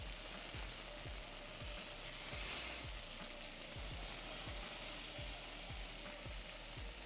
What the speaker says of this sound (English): We're gonna start searing our peppercorn crust.